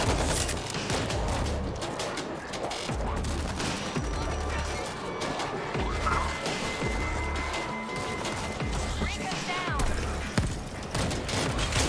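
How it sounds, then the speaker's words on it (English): Sustained machine gun fire in the World War Z video game, rapid crackling bursts mixed with other gunshots and chaotic combat noise, with shouted voices now and then. "Machine gun in place!"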